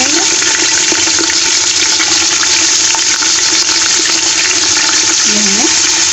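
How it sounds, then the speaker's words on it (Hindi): Beef frying with salt in ghee gives a loud, steady, dense sizzle that fills the whole clip without pause, close and continuous. "इसको हम थोड़ा सा नमक के साथ फ्राई करेंगे।"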